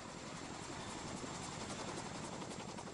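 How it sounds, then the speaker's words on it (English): A low-flying helicopter over the Lake of the Ozarks during troop jumps into the water makes a steady, dense rotor and engine roar with fast rhythmic chopping, heard alone at moderate level. "jumping into the Lake of the Ozarks from a low-flying helicopter"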